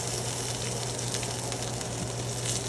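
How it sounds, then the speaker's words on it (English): An A5 Japanese wagyu steak sears in a hot pan, giving a steady, close, continuous sizzle and crackle with a low electrical hum underneath and no talk. "we're trying to really sear that steak."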